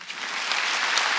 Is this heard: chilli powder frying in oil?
no